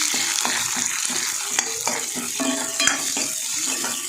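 Finely chopped onion sautéing in a pan as rava appe are made, with a steady close sizzle and frequent scraping, stirring clinks of a spoon against the metal throughout, no voices.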